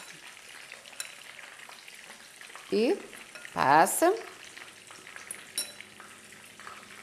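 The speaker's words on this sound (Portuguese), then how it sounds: "E vamos fritando." Meatballs coated in egg and breadcrumbs fry in hot oil with a steady low sizzle, broken by a few louder bursts of crackling as pieces go into the pan, while a voice speaks briefly.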